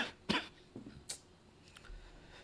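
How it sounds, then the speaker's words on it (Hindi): A few short, quiet coughs come in quick succession against a faint background, with brief pauses between them. "बहुत खांसी हो रही है भाई"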